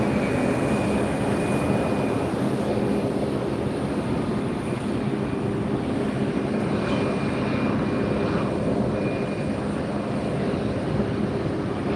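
JetBlue airliner at Fort Lauderdale airport, a steady loud engine roar with a broad rushing hiss that holds evenly throughout, no voices.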